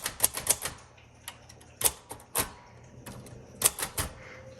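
Keys struck on a 1957 Royal Quiet Deluxe typewriter in tan crinkle finish, a sharp irregular sequence of close, crisp mechanical clacks with brief pauses between bursts.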